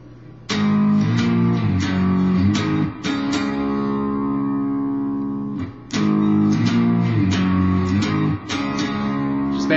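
Distorted electric guitar power chords from the intro of a song: loud, ringing chord strikes in a rhythmic pattern, with long sustained chords and short stabs, played solo.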